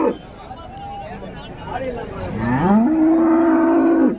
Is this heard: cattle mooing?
yes